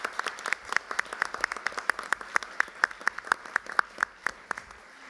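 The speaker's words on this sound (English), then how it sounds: "Let's give them all a round of applause." An audience at a school Board of Education meeting applauds with a steady stream of crisp, evenly spaced claps, moderately loud and close, lasting about five seconds without talk.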